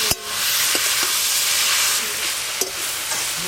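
Boiled papaya hits hot mustard oil with tempered mustard seeds and sets off a loud, steady sizzle that lasts throughout, with a few sharp stirring clicks near the start and again later.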